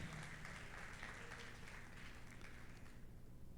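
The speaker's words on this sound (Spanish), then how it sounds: "¿Cuántos le dan un aplauso al Señor por esto?" Faint, distant applause from a Spanish-speaking congregation at a Sunday church service, a soft even patter of clapping that dies away near the end.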